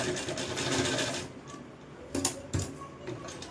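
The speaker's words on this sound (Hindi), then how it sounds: "किनारे किनारे से लगाएंगे हम सिलाई।" A sewing machine stitches along the edges of kurti fabric: a continuous close whirring run, then a pause followed by short stitching bursts.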